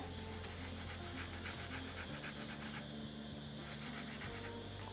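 Crispy fried snack pieces rubbed together to show their crunch make a steady dry rasping and crackling that lasts the whole stretch, close and fairly even, with no voices.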